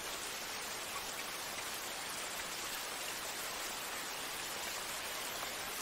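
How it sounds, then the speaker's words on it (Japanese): Steady rain falls without a break as an even, hissing wash of drops that fills the scene at a soft, constant level. "雨を聞いてるんじゃないかしら。"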